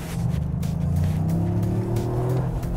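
Toyota GR Yaris three-cylinder engine revving, a close loud raspy drone whose pitch climbs steadily as it accelerates, with a gritty, slightly uneven tone.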